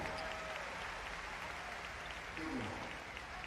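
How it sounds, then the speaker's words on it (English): Basketball fans in an arena at a Japanese B.League game cheer and applaud, a sustained rush of clapping and crowd noise that stays fairly faint under a commentator's voice. "Here comes Carl Tamayo, so the fans in the Philippines cheering"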